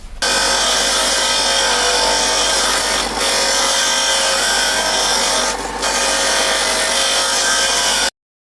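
A power tool cuts a steel car front panel along a scribed line, giving a continuous loud, harsh grinding whine that runs almost unbroken, with two brief dips, before cutting off abruptly.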